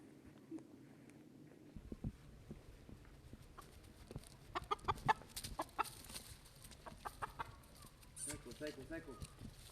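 Chickens cluck faintly in a rural setting, scattered short clucks and squawks spread across several seconds at a distance, with a person's voice mixed in among the fowl sounds.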